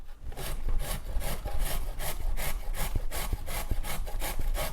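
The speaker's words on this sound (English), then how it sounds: "just grate the carrot." A carrot rubbed against the larger holes of a box grater for an Afghan salad, giving a steady run of rasping scrapes in a quick, even rhythm, close and fairly loud, with no talking.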